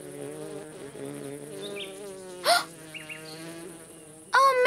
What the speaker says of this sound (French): Une abeille!